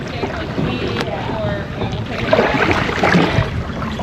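A kayak drifting on open water, with soft lapping and steady wind buffeting the microphone in a continuous wash; a voice talks briefly now and then.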